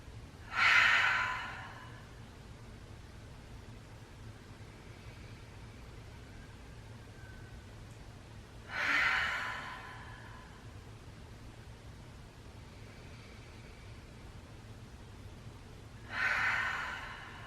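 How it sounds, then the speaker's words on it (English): Slow, deep breaths during a calm yoga practice, three long airy exhales spaced about eight seconds apart over quiet steady room hum, each breath soft and close. "Breathing in through the nose, exhaling out the mouth."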